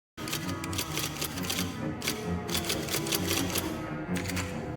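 Rapid typewriter keys clack in dense bursts with a couple of short pauses, loud and close, with no voices over them.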